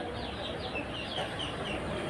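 Young Campbell ducklings call in a close, continuous chorus of high chirping peeps, quiet but busy, with no talk over them.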